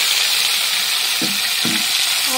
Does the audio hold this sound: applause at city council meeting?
no